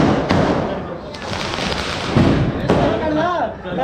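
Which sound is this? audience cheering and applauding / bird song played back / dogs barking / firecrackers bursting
firecrackers bursting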